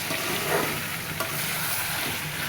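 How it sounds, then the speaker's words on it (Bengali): Potatoes tipped into braised meat sizzling in a pan, a steady dense crackle of frying with soft stirring and one brief knock midway, no voices. "মাংস কষানো হয়ে গেছে, এখন এর ভিতরে আলু দিয়ে দিচ্ছি"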